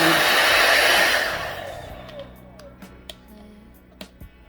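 Hair dryer blowing loudly as a steady whooshing roar for about two seconds, then winding down and cutting off, followed by quiet handling clicks.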